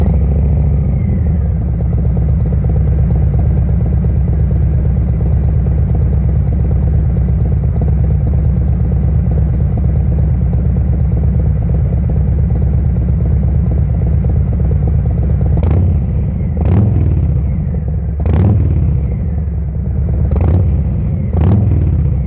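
A 2018 Harley-Davidson Heritage Softail fitted with RCX mufflers idles with a loud, steady, loping rumble, then gives several short throttle blips near the end.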